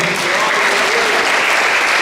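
A church congregation gives loud, sustained applause during a healing and deliverance service, a dense, steady wash of clapping with voices faintly mixed in.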